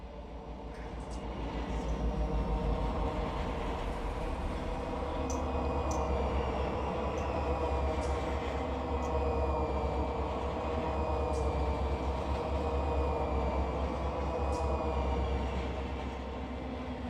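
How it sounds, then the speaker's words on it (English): Locomotives rumble past in a rail simulation on a 25-mile-an-hour stretch with a slight downhill grade, a steady heavy low drone with wheel and track clatter and faint high squeals, holding close and loud throughout. "Look at the detail of the locomotives going by."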